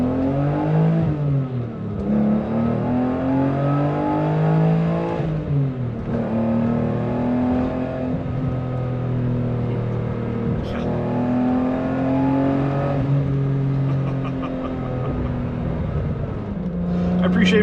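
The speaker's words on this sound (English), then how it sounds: "This engine just sounds absolutely marvelous." A 1988 BMW E28 M5 engine while driving, its revs rising and falling through several gear changes. The tone is loud and close, and a voice talks over it at points.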